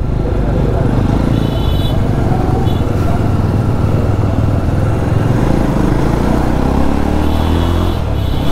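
Motorcycles setting off on a group ride through a town market, a loud, steady engine drone with rising revs running throughout, close by and continuous.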